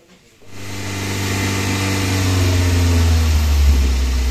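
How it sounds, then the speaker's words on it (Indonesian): A rebuilt Daihatsu Gran Max engine, one that had been blowing white smoke, cranks and catches after a brief quiet moment. It then settles into a loud, steady idle with a deep even hum that rises slightly over a few seconds. "mesin sudah nyala kembali normal"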